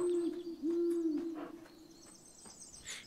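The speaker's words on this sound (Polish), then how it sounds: "Tu jest gdzieś ta sowa." Owl hooting in the video game Shelter 2: a steady low tonal hoot repeated a few times in quick succession, clear and fairly near, followed by faint forest ambience with no talking.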